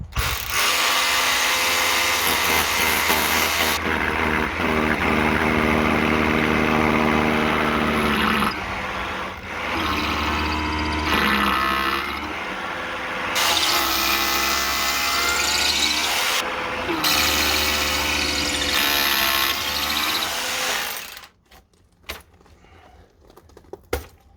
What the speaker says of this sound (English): Use the hammer drill and you won't have any problems.